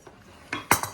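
A kitchen knife scrapes and clacks against a ceramic plate in three quick, sharp strokes, the last the loudest, with no one speaking.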